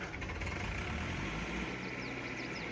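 Combine harvester engine in Farming Simulator 22, an old scrap machine being started, settles into a steady low idle with a constant rumble and no pauses.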